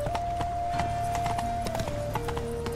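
Steady clip-clop of horse hooves at a walking pace in the video game The Witcher 3: Wild Hunt, close and continuous, with a sustained musical tone underneath.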